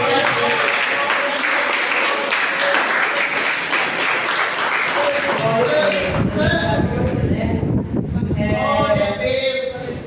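A church congregation applauds loudly and steadily, clapping filling the whole stretch, with voices and cheering rising near the end.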